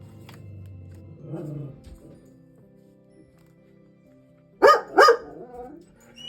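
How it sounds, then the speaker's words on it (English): A dog gives two sharp, loud barks close by, one right after the other, following a quiet stretch with a faint muffled noise earlier on. "My dog hears the least little sound and he's barking."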